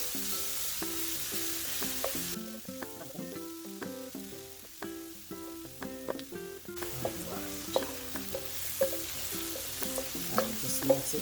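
Chopped onion and garlic stirred and frying in a pan for spam fried rice, with steady sizzle and repeated sharp spoon scrapes and clinks against the pan throughout.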